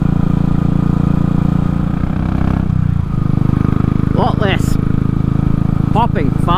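A Royal Enfield motorcycle fitted with a Race Dynamics Powertronic unit running map 1 thrums with a steady, loud single-cylinder engine note at low revs, close up, while someone talks over it.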